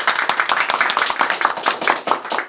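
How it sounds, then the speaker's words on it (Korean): Applause from an early-morning reading club audience at a mini lecture, a dense, steady patter of many hands clapping together for a few seconds, close and full without any voices. "그 의지에 대해서 우리 서로에게 격려의 박수를 크게 한번 보내주시면 좋겠습니다."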